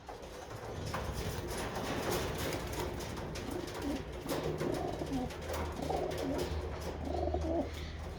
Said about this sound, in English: let's check in on the rest of the pigeons